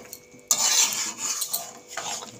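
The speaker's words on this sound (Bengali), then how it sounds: "কুচানো ধনে পাতা দিয়ে দেব। এবার ভালো করে নাড়াচাড়া দিয়ে" A spoon stirs ghugni with chopped coriander leaves in a pan, scraping and clinking against the metal in a dense, close burst of sound with a brief pause before a last stir.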